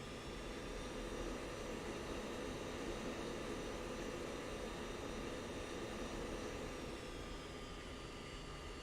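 An F-16 taxiing in the Falcon BMS flight simulator gives a continuous, even jet engine whine and rumble, steady and moderately quiet throughout with no talking over it.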